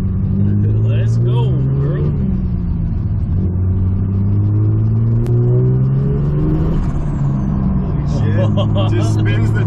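A third-generation car, running bigger injectors and smoking heavily, pulls hard from a launch with its tires spinning, the engine note droning and rising steadily throughout while a voice talks over it.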